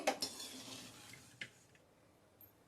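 Crisp fried coriander leaves lifted out of the pan onto a plate, a few quick metal clinks and scrapes of utensils, faint and sparse in a quiet kitchen.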